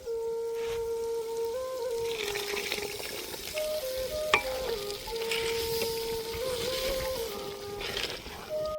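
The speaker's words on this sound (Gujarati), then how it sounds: "આપણે પલાળેલા ગાંઠિયાની ગ્રેવી નાખી દઈશું." Soaked gathiya gravy hits a hot pan for a garlic-clove curry, giving a steady, close sizzle with scraping stirs throughout, while a faint melody plays underneath.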